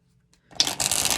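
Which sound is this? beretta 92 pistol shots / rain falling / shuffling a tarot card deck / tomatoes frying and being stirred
shuffling a tarot card deck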